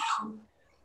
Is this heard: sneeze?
yes